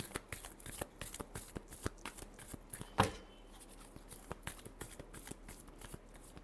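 A deck of tarot cards is riffled and shuffled in quick, crisp flutters, with one sharper snap partway through, close and fairly quiet, no speech.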